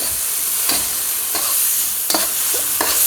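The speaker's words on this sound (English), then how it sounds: "All you need here is about a minute just to get those peas cooked up a bit." Peas sizzle and fry in a hot pan while being stirred for pork fried rice, a steady close hiss broken by several scraping stirs, with no talking.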